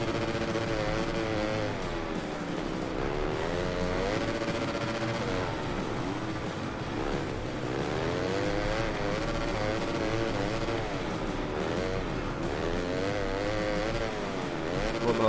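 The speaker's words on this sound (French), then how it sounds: "Je pense qu'il y a un truc que j'ai pas compris sur la physique de la moto à l'accélération" Motorcycle in the racing video game MES6 revs and accelerates repeatedly, its engine pitch rising and falling in waves, loud and continuous with no talk.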